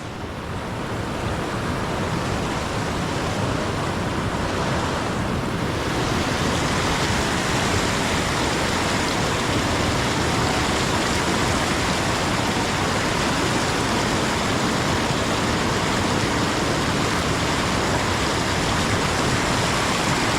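Water from two rivers rushing together at their confluence in Konkan, a loud, dense and unbroken roar close by with no voices.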